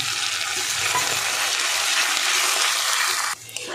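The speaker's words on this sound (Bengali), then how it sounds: "এবার আদা রসুনের পেস্টটা দিয়ে দেবো, দিয়ে ভালো করে কষাবো, কাঁচা গন্ধ চলে যাওয়া পর্যন্ত কষাবো।" Ginger garlic paste frying with onion in a pan makes a loud, continuous sizzle with stirring, then drops away abruptly just before the end.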